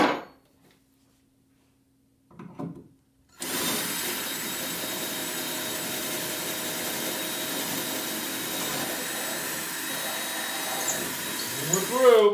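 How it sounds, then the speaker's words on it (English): A loud, steady power drill grinds continuously for about nine seconds after a brief quiet start, drilling a hole for chain plates on a boat, with a rising whine near the end. "But we're going to drill this last hole."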